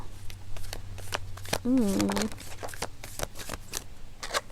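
Tarot cards are shuffled up close in a rapid series of crisp riffling snaps, with a brief voice heard partway through.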